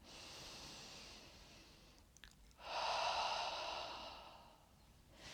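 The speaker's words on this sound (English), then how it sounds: "Inhale, lifting up, exhale out the mouth." Deep breaths during a chair yoga session: a soft breathy inhale, a brief pause, then a longer, louder exhale pushed out through the mouth, close and alone with no talking.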